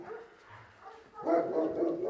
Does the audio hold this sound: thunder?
no